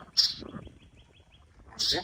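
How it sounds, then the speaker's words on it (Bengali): Two sharp, bright calls from a pet myna perched on a hand, one near the start and one at the end, with quiet indoor rustle and faint low background sound between them. "এটা দেখো কিভাবে ডাকতেছে পাখিটা"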